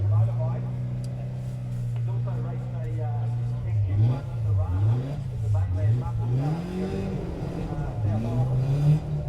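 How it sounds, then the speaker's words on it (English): A 1981 Toyota Starlet rally car at a forest rally sprint starts off, its engine revving and rising in pitch with shaky surges, loud and close under a commentator's voice. "So car 57 gets underway, bit of a shaky start for his Saturday morning"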